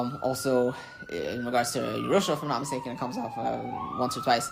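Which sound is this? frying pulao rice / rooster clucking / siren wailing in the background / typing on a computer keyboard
siren wailing in the background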